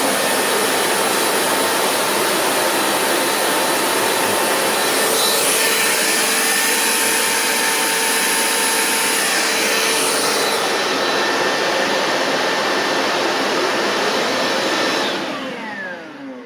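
A Bissell Powerforce Compact vacuum cleaner with a 7-amp motor runs unloaded, giving a loud, steady high-pitched whine that drops in tone partway through and then winds down at the end.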